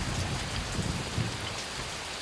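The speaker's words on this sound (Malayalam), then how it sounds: "എന്ത് മഴയായത്! അടുത്ത കാലത്തൊന്നും ഇത്ര വലിയ മഴ പെയ്തിട്ടില്ലല്ലോ." Heavy rain pouring down in a steady, dense hiss, even and unbroken from start to end, with no one speaking.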